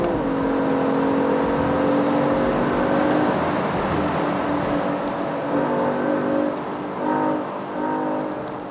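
A Genesis G80 3.5T with the sport package in Sport+ mode drones loudly from inside the cabin. The engine holds a sustained tonal hum with shifting pitch and dips slightly near the end.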